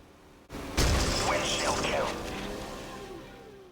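A sniper shot in the video game Harm's Way blows out a vehicle's windshield: a sudden loud crack and crash of shattering glass, then a broad debris rumble that slowly fades.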